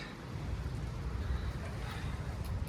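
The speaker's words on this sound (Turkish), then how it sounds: "Dışarıya çıkmayın çok rüzgar esiyor." Steady, heavy wind roars and buffets throughout, a broad low rumble with constant gusting that fills the whole clip.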